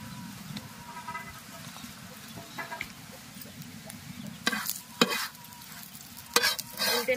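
Paratha frying in oil on a hot tawa, a low steady sizzle with clanks and scrapes of a spatula flipping and pressing the flatbread, fairly close, no clear speech.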